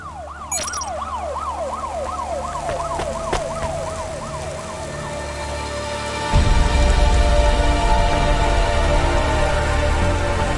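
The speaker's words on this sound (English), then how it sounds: "Don't let all the rain get you down." Rain in the video game Cloudpunk on PS5: a wailing siren sweeps up and down at first, then a loud, steady hiss of heavy rainfall floods in about halfway through and continues to the end.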